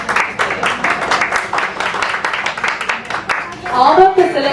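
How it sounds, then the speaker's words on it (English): A crowd claps steadily in dense, even applause that keeps going throughout, with a voice rising over it near the end. "Let's give a round of applause."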